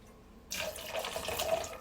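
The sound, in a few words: pouring Empress gin into a glass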